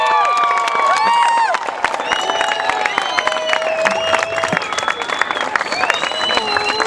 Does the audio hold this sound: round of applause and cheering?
yes